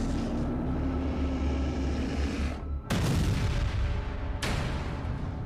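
Gunfire effect from soldiers' weapons shooting at a giant in an Indonesian audio drama, heard as dense booming bursts over a rumbling battle bed, with two sharp loud blasts standing out near the middle and end.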